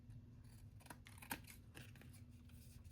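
Long scissors snip paper quietly a few times, short crisp cuts spaced irregularly over a faint low hum, close by.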